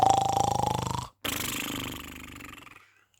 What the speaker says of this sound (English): He was snoring very loudly.